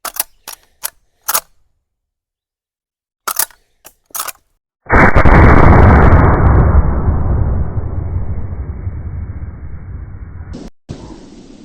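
A .70 Winchester Express lever-action rifle shot at a jug: several sharp clicks and clacks of handling, then one loud booming report that decays slowly into a long echoing tail.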